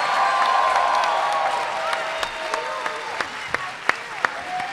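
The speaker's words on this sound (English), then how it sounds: "I need y'all to start clapping right now" Fan convention crowd at a Power Rangers anniversary panel applauding and cheering for a guest, a steady wash of clapping and voices with a few sharp louder claps standing out toward the end.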